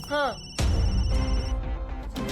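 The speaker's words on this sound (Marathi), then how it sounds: "हा विक्रम घाडगे पाटील का फोन करतोय आता" A telephone rings in a Marathi television drama scene, a steady electronic bell tone of about a second over low music and room noise.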